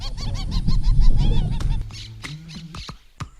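Wild birds call in a rapid series of honking, goose-like cries, loud and close, with a few sharper squawks and calls scattered toward the end.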